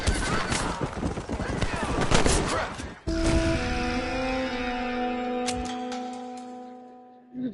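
Gunfire in the western video game Red Dead Redemption: a dense burst of rapid shots mixed with a horse whinnying, followed by sustained tonal game sounds as the shooting fades.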